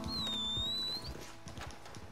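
Horse hooves clip-clop in Red Dead Redemption 2 Online, a run of rhythmic thuds under a high whistling tone and quiet game ambience.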